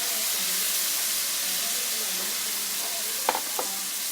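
Tomato paste hits a pan of frying taro, eggplant and onions with a steady, soft sizzling hiss, with a couple of faint utensil clinks near the end and no talking.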